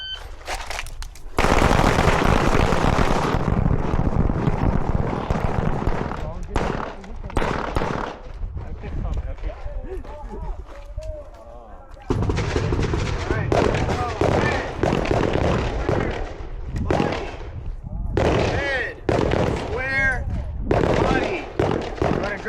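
Pistol shots fired in a practical shooting drill, sharp loud cracks in quick strings and pairs with short pauses between bursts, ringing outdoors; people talk between strings.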